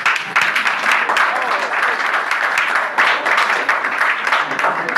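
Steady applause from an audience at a news event fills the whole stretch, dense overlapping claps at a fairly even level without a break.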